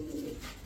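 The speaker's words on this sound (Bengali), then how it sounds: "পাইট কবুতর ভাই, পাইট কবুতর, ব্লুবার পাইট" A blue-bar pied pigeon gives one brief, low coo up close, with no talking.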